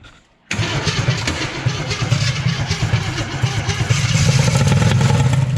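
An old Jeep engine, unused for 24 years and sprayed with starting fluid, cranks and catches, then runs with a rough, steady chug, loud and close, after a brief quiet start.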